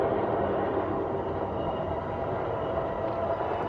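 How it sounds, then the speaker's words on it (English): An Amtrak train rumbles past nearby as a steady, dense low roar with no breaks, holding constant for the whole stretch without speech. "I don't know if y'all can hear the train, but y'all can hear me breathe, so you can probably hear the train."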